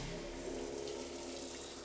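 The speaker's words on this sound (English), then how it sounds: "we pump a heap of water in there." Water is pumped into the insulated kill tank of a Cruise Craft E695 boat, a steady continuous rushing flow with a low pump hum, close and unbroken throughout.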